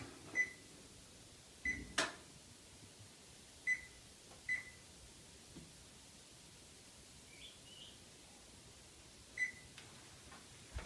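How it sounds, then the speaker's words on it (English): Short, faint electronic beeps from a kitchen timer being set, spaced irregularly over a quiet hiss with a brief pair of higher tones near the middle. "Let me set my timer."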